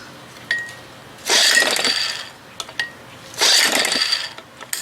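A 30 hp Evinrude outboard motor is pull-started twice, each long rasping pull of the recoil cord loud and close, separated by short clicks and pauses, without the engine catching.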